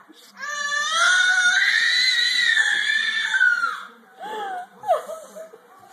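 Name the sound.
toddler screaming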